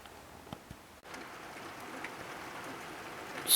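Steady rain pours down through a severe thunderstorm, a dense even hiss with a few distinct drop impacts, then a louder swell right at the end.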